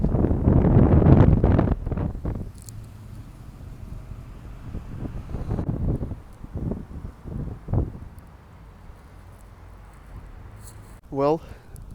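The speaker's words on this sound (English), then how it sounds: "Turned out to be a nice day. It's a little windy," Gusts of wind thump and rumble against the microphone in uneven bursts, strongest at the start, fading to lighter puffs under quiet outdoor air.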